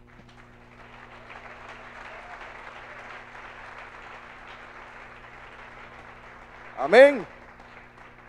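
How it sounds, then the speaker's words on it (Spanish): Applause for Jesus from a Sunday-school church congregation, a soft, steady wash of clapping spread through the room, with a single loud voice cutting in near the end. "Un aplauso para Jesús"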